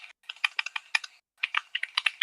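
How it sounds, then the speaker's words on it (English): Rapid bursts of computer keyboard typing with a brief pause midway, close and fairly clear, with no talk over it. "Who on earth is typing?"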